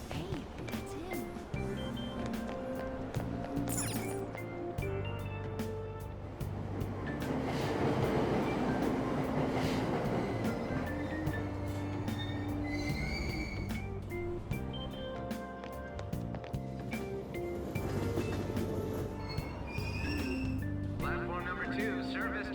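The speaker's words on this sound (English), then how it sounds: "Platform number 2, service to Asakusa is departing soon. Please watch your step. Train doors are now closing." Subway train in the Persona 5 Royal video game, a steady rumble and clatter of a metro train at a station, with station announcements and voices heard over the continuous rail noise.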